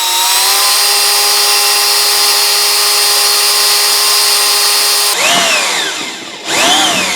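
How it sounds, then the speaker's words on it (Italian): An electric drill with a 3 mm cobalt bit boring into a gas hob, a loud, steady high-pitched whine that holds for five seconds, then cuts off and spins up twice in quick bursts, close and alone. "prenderemo un trapano e con una punta da 3 mm andremo a forare"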